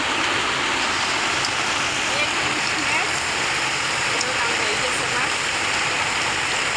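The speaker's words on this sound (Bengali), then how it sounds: "বৃষ্টিতে কথা বুঝায় না" Heavy rain pours steadily and loudly, forming a dense, unbroken hiss throughout, with no other sound standing out.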